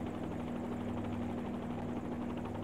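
Freeware Robinson R44 helicopter in the X-Plane flight simulator, a steady continuous rotor and engine drone with a buzzing low hum, droning evenly throughout at a constant level.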